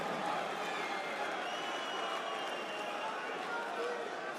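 Crowd cheering at a Swiss Darts Trophy final as Martin Schindler breaks throw, a steady roar of noise from a large audience throughout, with a commentator talking over it.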